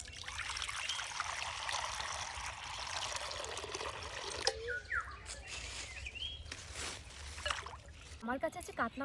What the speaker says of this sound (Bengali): রান্নার মেন ইনগ্রিডিয়েন্টস, সেটাকে ধুয়ে নেবো এখন ভালো করে।